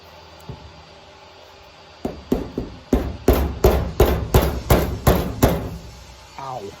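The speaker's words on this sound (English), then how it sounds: "A hammer." A hammer strikes repeatedly while working on windshield wipers, a few scattered knocks followed by a steady run of about a dozen sharp, loud blows close by.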